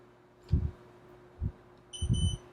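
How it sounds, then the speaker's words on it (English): A workout timer gives a few short electronic beeps, close and clear, spaced unevenly over about two seconds, with a low thud between them and no voices. "I'm going to set the timer for 2 minutes, and we're going to work with the timer here"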